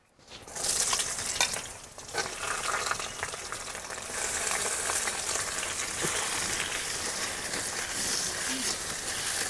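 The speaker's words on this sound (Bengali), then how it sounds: "এবারে পেঁয়াজ কুচিটা দিয়ে দেবো।" Chopped onion drops into hot oil in a pan on a clay stove, bursting into a loud sizzle that settles into a continuous, even frying hiss throughout.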